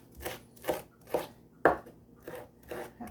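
Knife chopping fresh cilantro and mint on a board, about seven distinct cuts in a steady rhythm, close and clear with no talking.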